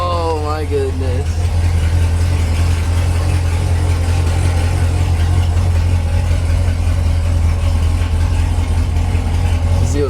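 A Corvette Z06 engine runs steadily at a loud, deep idle with a strong low drone, after a brief rising rev at the start, while people talk nearby.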